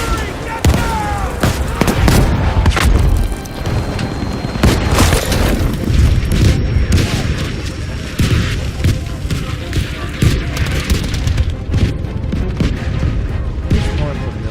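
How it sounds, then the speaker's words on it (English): Artillery barrage in Battlefield 5, a dense, continuous run of heavy booms and crackling gunfire that stays loud throughout, with voices faintly mixed in. "Artillery, get down!"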